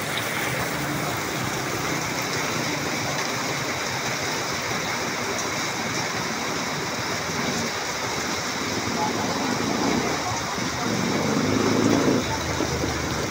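Steady heavy rain hisses over a broad area in the town of Lopez, Quezon, with a low background rumble, growing slightly louder near the end; a faint voice murmurs beneath.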